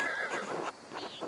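A horse in the video game Pentiment gives a short, close whinny with a rising and falling pitch, accompanied by faint background rustle.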